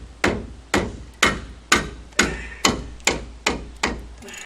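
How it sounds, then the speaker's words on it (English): Brake caliper bolts being loosened on a car brake job with an impact wrench, eight sharp evenly spaced impacts about half a second apart, loud and close, each with a short ringing decay. "Use the impact wrench here."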